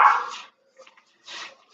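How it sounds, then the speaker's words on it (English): A dog barks from near a porch, two or three short sharp barks separated by brief pauses, fairly loud and with no talking over them. "I don't know what he's barking about."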